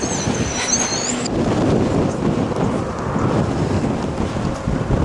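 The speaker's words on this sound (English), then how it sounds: "there is no let up in the wind" Strong wind blasts across an open trail beside a wind farm near Tehachapi, buffeting the microphone in a loud, constant roar with gusty swells throughout.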